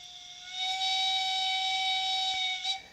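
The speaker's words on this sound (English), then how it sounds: "even a steam effect." The built-in steam effect of a model railroad locomotive gives a steady, close whistling hiss that swells in, holds evenly for about two seconds with a faint click, then fades.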